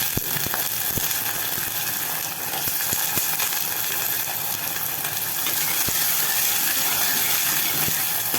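Chopped brinjal sautés in a pan with onion and garlic, producing a continuous soft hiss of steam and frying with scattered small clicks and ticks of stirring, moderately quiet and without any talk.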